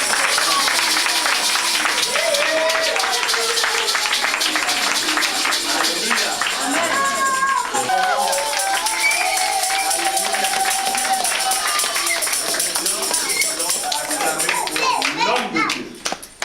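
A church congregation applauds steadily for a preacher, the clapping dense and continuous, with children's voices and crowd chatter mixed in before it tails off.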